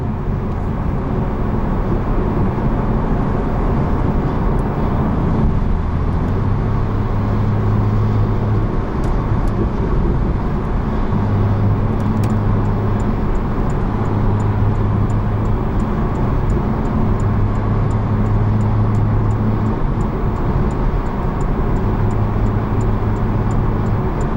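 A 2018 Porsche Carrera 4S with PDK gearbox drives steadily with a loud, continuous engine drone and road noise from inside the cabin, with rising and falling tonal bands hinting at repeated revving through the gears.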